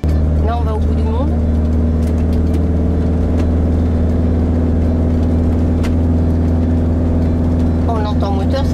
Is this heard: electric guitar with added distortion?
no